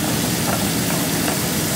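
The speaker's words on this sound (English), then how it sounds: "You can hear it simmering." Balsamic garlic pasta sauce simmering on low heat, a steady close hiss and soft bubbling crackle with no talking.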